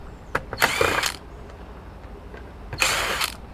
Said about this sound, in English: let me take the screws out of the front and the back